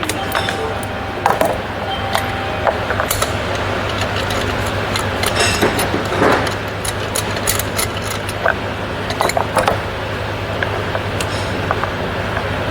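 A spark plug is unscrewed from a smoking Alfa Romeo engine, with close metallic ratcheting clicks and creaks of the wrench in short repeated bursts over a steady low hum.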